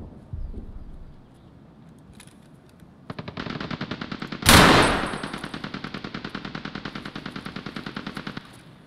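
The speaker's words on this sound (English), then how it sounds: "Sounds like somebody is on the machine gun." A machine gun rattles in Escape from Tarkov, opening with a lone shot and distant thuds, then a long steady burst of rapid, loud fire with one heavy blast partway through.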